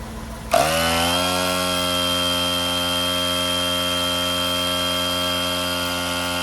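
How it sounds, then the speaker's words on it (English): A TATA tyre mobility kit's portable tyre inflator switches on after a short moment and settles into a loud, steady, buzzing motor drone with a slight rattle that continues unbroken to the end. "now the inflator has been fixed with the tire air lock, and now let's start it."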